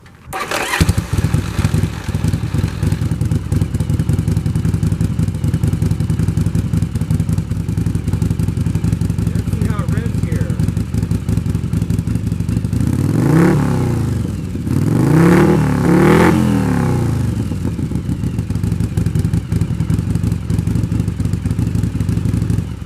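A Yamaha Virago XV700 motorcycle engine, converted to a single replica S&S Super E carburetor, restarts warm and idles with a steady loud rumble, then revs up several times in quick throttle blips before settling back, close by.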